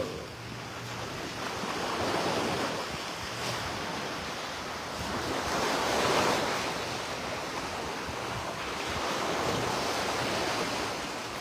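Waves washing onto a beach in broad, continuous surges, steady and fairly close, with some wind rumble and no talk.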